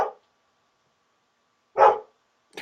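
A dog barks in short, sharp bursts, one at the start, another loud bark near the end and a third beginning just as it cuts off, with silence between them and no voices.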